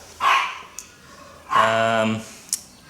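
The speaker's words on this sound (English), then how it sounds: "sorry about my dogs there wrestling" Dogs bark and wrestle together indoors: two short barks about a second apart, the second longer and more tonal, followed by a faint yip, with no talking over them.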